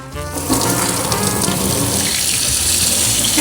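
Water gushes steadily from a newly connected tap, a loud, continuous rush with no break.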